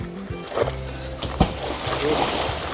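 A thrown stone hits a village river with one sharp splash midway. People talk throughout, and the gentle wash of the water runs underneath.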